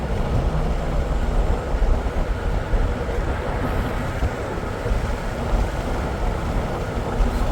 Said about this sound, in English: This is a loaded corn train going somewhere.